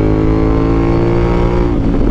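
A 2024 CF Moto 800MT two-cylinder adventure motorcycle revving loud and close, a steady throaty engine roar that shifts pitch near the end.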